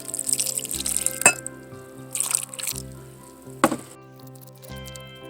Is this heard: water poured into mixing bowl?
yes